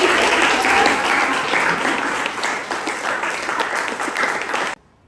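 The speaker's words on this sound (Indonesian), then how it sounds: "Tepuk tangan lagi buat semuanya." Classroom of high school students in Balikpapan clapping together, a dense burst of applause that tapers slightly, then cuts off abruptly near the end.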